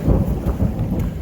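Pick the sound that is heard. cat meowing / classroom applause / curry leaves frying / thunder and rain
thunder and rain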